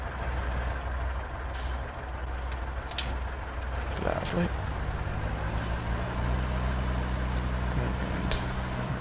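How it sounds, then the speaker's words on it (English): A truck engine idles steadily in the background on a farm in the Waldsee map, a low continuous rumble with occasional hiss and clanks, while someone briefly speaks over it. "And should probably turn that truck off as well for now."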